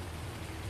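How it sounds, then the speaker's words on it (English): Steady rain falls on a farmyard, a soft continuous patter spread evenly through the whole moment with no talking, fairly quiet and close around. "in this rain"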